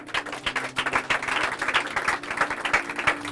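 A church congregation bursts into applause, a dense run of hand claps at moderate distance with a faint steady tone beneath, continuing without speech.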